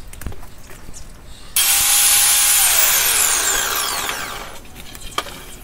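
A power tool cuts along the edges of a wooden board, a loud high whining cut that starts abruptly, holds for about three seconds and fades as it finishes, with quieter handling noise before and after.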